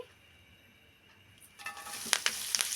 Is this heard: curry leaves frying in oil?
yes